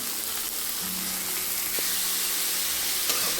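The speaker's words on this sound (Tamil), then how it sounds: "நல்லா வதக்கி விட்டுக்கோங்க." Chopped onions, four large ones, sautéing for kuzhi paniyaram sizzle steadily in a pan, a continuous soft frying hiss with faint stirring scrapes and no voices.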